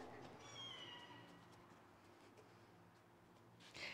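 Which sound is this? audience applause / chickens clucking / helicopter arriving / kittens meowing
kittens meowing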